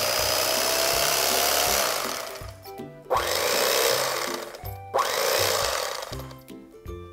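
A Cuisinart CEK-30J electric knife runs with a loud, steady buzzing whir, cutting out twice briefly and restarting, close and with no talk.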